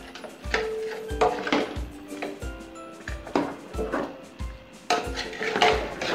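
A spoon clanks and scrapes against a cooking pot while coriander powder is stirred into beef paya curry, making repeated sharp metallic knocks in an uneven rhythm, close and fairly loud with no speech.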